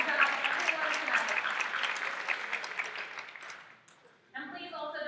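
Audience applause breaks out at a Ms. Wheelchair America contestant speech night: a sustained crowd clapping that slowly fades out over several seconds, briefly drops to near quiet, then a voice begins speaking over the room.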